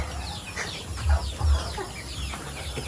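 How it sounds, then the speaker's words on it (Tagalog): Chickens cluck steadily nearby, a busy scatter of short clucks with a couple of louder low thumps mixed in, outdoors with no talk. "Merong mga alaga silang manok."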